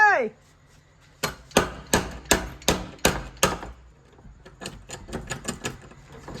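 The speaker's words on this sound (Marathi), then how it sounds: "भाईने हातोडी घेऊन आला." A hammer strikes a lock at a farmhouse: after a brief chirp, seven sharp, evenly spaced, loud blows ring out, followed by a quicker run of lighter taps.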